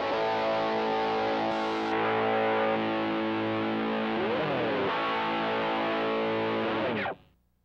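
Heavily distorted guitar through amp-modelling drive with vacuum-tube character and cabinet simulation on a Korg D1200 MKII digital recorder, played as sustained loud chords with a slide near the end, then cut off abruptly.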